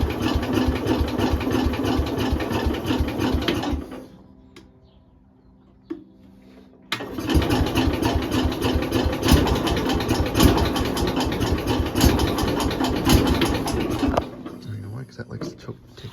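Small engine started with the choke all the way out during a spring startup, a loud steady rattling run, a few seconds of near quiet, then the engine running hard again before tapering off.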